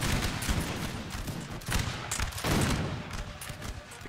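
A rolling musket volley in a Napoleonic battle crackles as many shots pop in dense, overlapping bursts, with heavier swells of gunfire building and ebbing over a few seconds.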